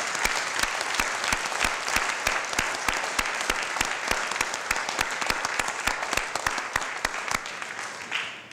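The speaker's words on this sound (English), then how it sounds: "One more round of applause for both of them." An audience at a municipal Black History event claps in sustained, dense applause, loud and even for the whole stretch, tapering slightly at the end.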